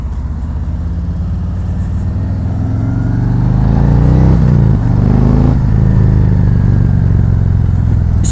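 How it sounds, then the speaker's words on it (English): A 2019 Harley-Davidson Road Glide Special with a 114 cubic inch engine and aftermarket slip-on exhausts, heard loud and close while riding, a deep steady rumble that swells as the bike accelerates, with no talking. "we're off on the 2019 Road Glide Special. This beast has got a 114 cubic inch engine in it"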